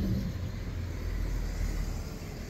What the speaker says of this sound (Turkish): Şöyle araba da geçti.